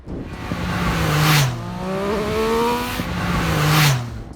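Triumph Speed Triple 1200 RS motorcycle engine howling under throttle, rising in pitch through two loud pulls with a brief shift dip between them, close and with no talking.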